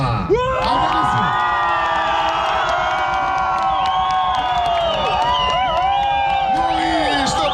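A crowd at a motorcycle festival cheers, whoops and shouts loudly and continuously, with some clapping mixed in, a dense close roar of many voices after a loud-exhaust contest.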